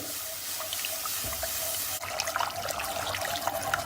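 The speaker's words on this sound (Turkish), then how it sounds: "İki su bardağı soğuk su ilave ediyoruz" Two glasses of cold water are poured into a pot for lentil soup, a steady close rush and splash of water that shifts to a brighter, bubbly gurgle halfway through.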